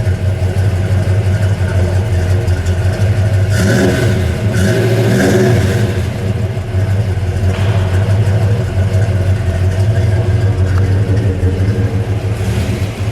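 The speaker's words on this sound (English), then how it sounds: "Give it a rev, please, would you?" A 1963 Plymouth Fury's big V8 engine idles with a deep rumble, then is blipped into a couple of sharp revs around the middle before settling back to idle.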